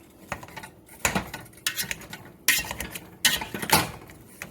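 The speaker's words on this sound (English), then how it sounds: "There, I guess we'll just start mashing." Cooked potatoes are mashed with melted butter in a pot for colcannon, heard as a series of irregular scraping, squishing strokes and metal clinks in uneven bursts, close up and without speech.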